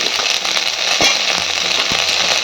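Okra and pumpkin fry in a pan with a steady, close, hissing sizzle, broken by a few sharp pops and taps.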